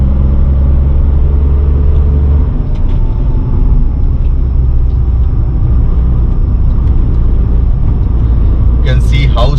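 Tata Tiago BS6 2021 engine in third gear climbing a steep road at about 55 with the AC off, a loud, constant low rumble and drone throughout, with someone talking over it.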